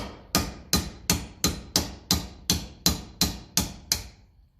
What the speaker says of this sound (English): So the next job to do was to tap out this clevis pin.